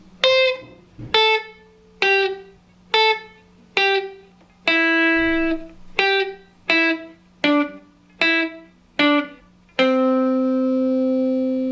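Electric guitar playing pentatonic scale patterns as a sequence of single plucked notes in an even rhythm, each ringing briefly, ending on a longer sustained note.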